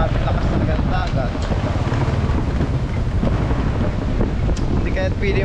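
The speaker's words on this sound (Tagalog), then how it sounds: "lakas talaga ng dagat" Loud, constant wind buffets the microphone over rushing sea surf, with a voice faintly heard beneath the roar.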